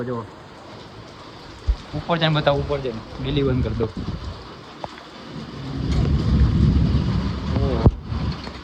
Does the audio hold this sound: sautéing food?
no